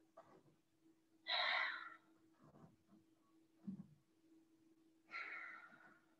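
Slow, deep breaths drawn in and let out during a yoga pose on all fours, a few soft breathy inhales and exhales close by in an otherwise quiet room.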